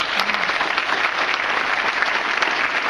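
An audience at a congressional district candidate forum applauds the organizers, continuous dense clapping at a fairly loud, even level throughout the short stretch.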